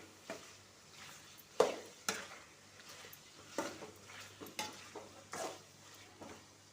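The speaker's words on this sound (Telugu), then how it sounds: "తెల్లవాయల పేస్టు వేసుకొని కొద్దిసేపు కలిపుకొని మళ్ళీ ఉడికించుకోవాలి" Chicken fry with garlic paste is stirred in a pan, making repeated scraping clatters and light sizzling at an irregular pace, with no talking.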